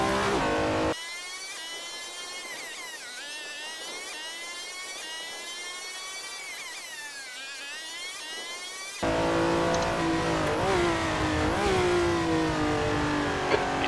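Vintage Ferrari race car engine in sim racing at Silverstone 1967, loud high-pitched engine note rising and falling through gear changes and throttle, close and continuous with no talk.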